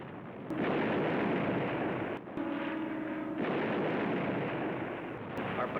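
Machine guns firing down from a cliff during a World War II beach landing: dense, loud, continuous gunfire and blasts that fill the clip, briefly dipping near the middle.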